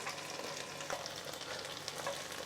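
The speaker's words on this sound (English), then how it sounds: "we basically just want to toss our gnocchis around a little bit, just to get them nice and coated with that wonderful butter" Gnocchi sizzle steadily as they fry in butter in a pan, a continuous close crackle with light stirring and tossing noises on top.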